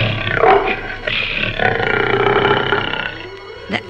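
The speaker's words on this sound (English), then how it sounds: "The lion roared with pain and anger." A lion roars in pain and anger in a children's story, a loud, throaty, drawn-out roar that swells and trails off over a few seconds, close and alone with no talk.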